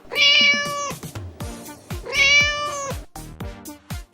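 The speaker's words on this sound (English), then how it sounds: "cat," A domestic cat meows twice, each call long, loud and close with a drawn-out falling tone, followed by a few softer short sounds.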